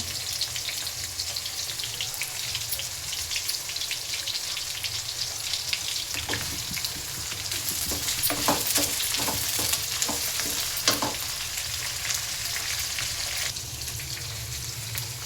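Fresh mint leaves added to a pan with onions and tomato for a village-style chicken sambar hiss and crackle steadily, swelling into a burst of sharp spattering pops midway before settling back to a gentle sizzle.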